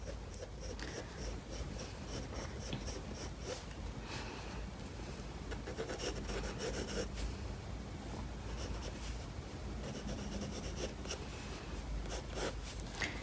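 A pencil sketches the lines of a face on paper, a steady close scratching of graphite with rhythmic strokes that continues without pause.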